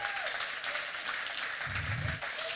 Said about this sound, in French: Applaudissez-les encore une fois, ils le méritent.